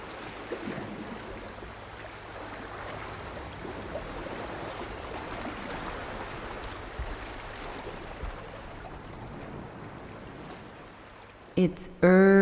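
Ocean waves wash onto a white sandy beach in the early morning as a soft, steady, continuous hiss. The surf sounds distant and gentle, with a few brief clicks right at the end.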